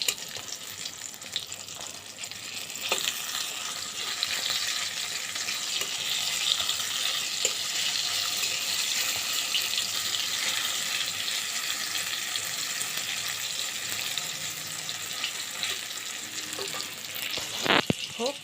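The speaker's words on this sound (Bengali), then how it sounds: "পটলটা ভাজা" Pointed gourd (potol) slices fry in a pan with a continuous, close sizzle and crackle. Light stirring and scraping sounds come through now and then, and a sharp clatter is heard near the end. No one speaks.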